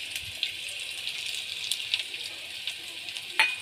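Spices for a spicy amla chutney, including red chilli powder, garam masala, turmeric, salt and coriander powder, are sautéed in a pan with a faint steady sizzle and a few light scraping stirs.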